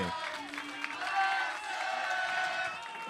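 A studio audience on a French talk show claps and cheers, a dense crowd sound with whoops rising and falling, voices shouting over it.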